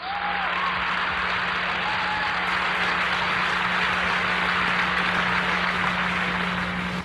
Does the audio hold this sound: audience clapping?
yes